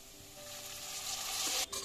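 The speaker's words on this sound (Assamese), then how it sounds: "দি মই ইয়াত 2-3 ছেকেণ্ডমান ভালদৰে ভাজি ল'ম" Chana dal frying in a pan for a breakfast dish, a steady close sizzle with stirring that builds slightly louder, then a brief scrape near the end; no talking.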